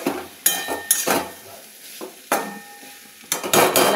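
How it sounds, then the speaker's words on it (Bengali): A metal spoon stirs pointed gourd with poppy seeds in a pan, giving several separate scraping and clinking strokes, fairly close, with quiet pauses between them and no voices. "পটলের গায়ে পোস্তটা পুরো ভালো করে মিলিয়ে নেব।"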